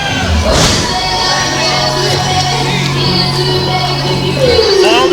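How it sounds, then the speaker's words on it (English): Wrestling audience reacting with a mix of cheers and boos, a loud sustained roar of shouting voices with yells and whoops breaking through, full and close throughout. "Kind of a mixed reaction from the crowd. Some cheers, some boos."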